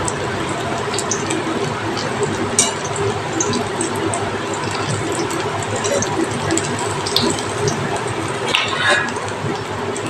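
Potato and egg fritters deep-frying in hot oil, a steady dense crackling sizzle holding level throughout with occasional sharper pops, close and fairly loud, no voices.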